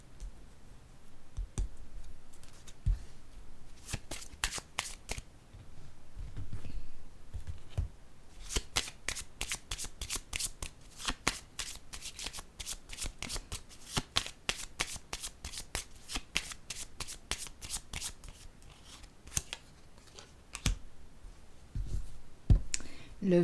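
A deck of cards is shuffled, producing long, rapid bursts of crisp riffling clicks, followed by quieter handling as a card is drawn. A voice speaks faintly in the background.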